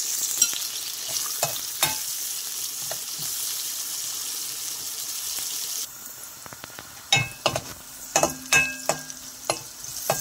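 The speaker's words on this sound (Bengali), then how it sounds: "এখানে পেঁয়াজ, রসুন আর কাঁচামরিচ 4-5টা ভালো করে ভেজে নেব।" Onion, garlic and a handful of green chillies with five-spice seeds sizzle steadily in hot oil in a pan, with scattered clinks and scrapes of a spatula stirring, getting busier toward the end.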